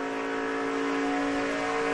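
Stock race cars accelerate at Daytona during the Gatorade Duel, a steady loud engine drone with a sustained high whine, briefly and without talk.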